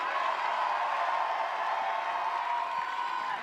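A spectator crowd at a lead climbing semi-final roars in sustained, steady cheering and whooping for a climber, heard as a broad wash of noise with no clear talk above it.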